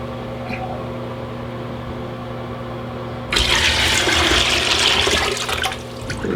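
Water gushing from a drain valve on a home water heater, starting abruptly after a steady background hum and rushing loudly for about three seconds before easing.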